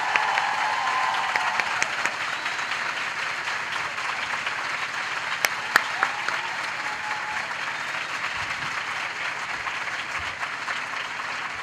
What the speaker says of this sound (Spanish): Y queremos que le deis un aplauso gigante a Patricia Espejo.